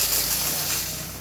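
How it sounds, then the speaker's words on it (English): The steam wand of a Rancilio Silvia espresso machine releases a loud, continuous hiss of steam, close and steady throughout, with no voices. "Nice strong steam"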